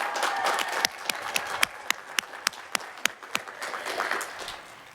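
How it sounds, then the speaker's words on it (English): Audience applause for graduates at the Archway Academy Class of 2025 completion ceremony, a sustained wash of clapping with distinct sharp individual claps spaced through it, moderately loud and fading slightly. "Let's give them a round of applause."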